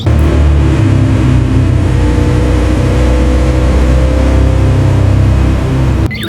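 A toy ATV's small motor runs loud and close with a continuous buzzing whir that holds steady for several seconds before cutting off abruptly.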